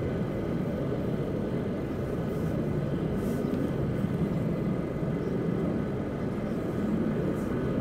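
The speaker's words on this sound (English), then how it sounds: "more aircraft are starting up" A steady low rumble of fighter jet engines spooling up at RAF Lakenheath, heard at a distance as a constant broadband roar without speech.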